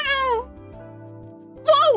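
Two clear cat meows sound in a cafeteria, one at the start and a louder, rising one near the end, with quiet background hum between them.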